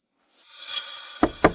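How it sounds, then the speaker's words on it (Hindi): Two sharp knocks on a house door in quick succession, loud and close, coming after a faint rising background hiss with no voices. "गोलेंग बहन वापस आ गई है, मैं दरवाजा खोलने जा रहा हूँ।"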